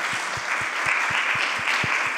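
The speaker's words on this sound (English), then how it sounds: "another round of applause" An audience at a scenarios forum session gives a round of applause, steady dense clapping with a few heavier thumps, heard from the room without talk.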